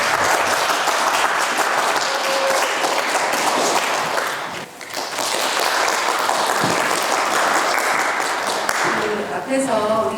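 Dense, steady audience applause fills a youth center hall as the director of Manan Youth Center is welcomed, briefly dipping midway before resuming, then tapering off near the end as a voice begins.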